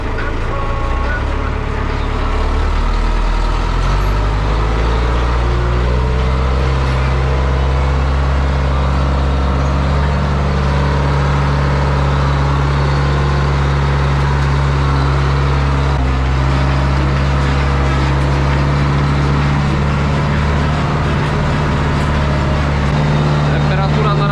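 A John Deere tractor drives in first road gear while harrowing a field, its engine a loud, steady low drone with constant rumble throughout, unbroken and close.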